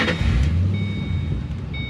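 A Ford Mustang engine idles from close behind the car, giving a steady low rumble at moderate loudness for the whole stretch, with faint higher tones above it.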